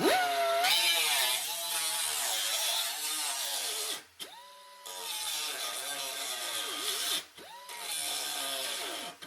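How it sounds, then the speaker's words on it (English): A 3-inch die grinder with a cutting wheel slices into the steel body of a 1968 VW Beetle near the headlight bucket, a close, loud, high whine that wavers in pitch under load and stops briefly twice. "We're going to use a 3-inch die grinder with a cutting wheel."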